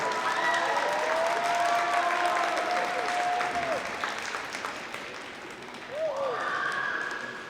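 An audience at an Academic Decathlon Super Quiz breaks into steady applause with some cheering, and voices can be heard over the clapping.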